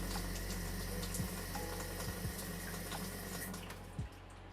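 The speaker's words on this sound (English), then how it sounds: "when we turn the hot water on, we can see practically instantly that we get 130-degree water from the tap" Hot water runs steadily from a tap fed by a ThermoMate Mini Tank heater, a continuous close hiss with a low hum underneath and a few faint clunks.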